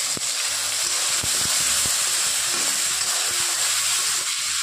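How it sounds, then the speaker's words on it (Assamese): Onions with a bay leaf fry in a pan toward brown, a broad steady sizzle and hiss with occasional sharp clicks and a faint low hum, close and continuous without talk. "পিয়াজখিনি মই অলপ সময় ৰঙাকৈ ভাজি লম।"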